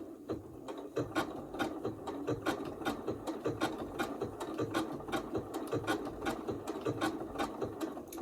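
A sewing machine stitches an appliqué block, a close, quiet, steady rhythmic chatter of rapid needle strokes with a mechanical whir running continuously, no voices.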